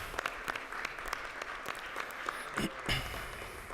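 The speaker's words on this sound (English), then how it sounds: "I wish to give you a round of applause" Brief round of applause from a conference audience at an international nuclear safety event, steady clapping with a few sharper claps standing out, moderately distant.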